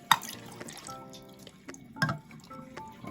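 Water poured while preparing dye to paint a multicolored T-shirt, heard as faint, close plinks and drips with a few brighter splashy spots and no voices.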